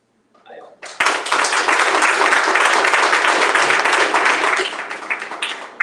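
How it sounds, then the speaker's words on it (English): Audience applause at a season premiere kickoff event, a loud sustained crowd of clapping that bursts in after a brief voice and holds steady for several seconds before thinning slightly. "A lot of claps on that"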